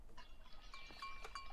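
A goat bleats quietly in a cartoon Alpine farm scene, a short wavering cry layered over faint tonal background sound.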